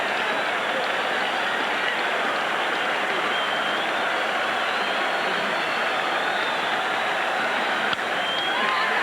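Baseball stadium crowd roaring for Nolan Ryan's 300th career win, a dense, steady wall of cheering and clapping that holds loud and unbroken from start to finish with no clear break.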